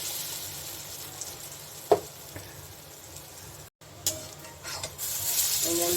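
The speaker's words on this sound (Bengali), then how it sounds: "ভাজাটা দেখাচ্ছি আমি কী করে ভাজবো" Continuous sizzling of lentil fritters frying in oil, with a few knocks and scrapes of a utensil against the pan.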